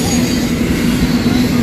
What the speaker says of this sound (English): I've actually never been this close to a train when it's been going, so this is extremely loud